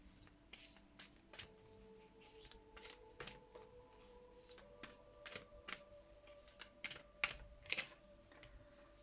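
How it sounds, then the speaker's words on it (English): Quiet, close card shuffling: a series of soft riffling bursts and light taps, irregular in rhythm, with a faint tonal hum underneath and no talking. "now I'll shuffle this that way."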